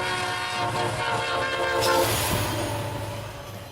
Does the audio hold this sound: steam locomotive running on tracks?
yes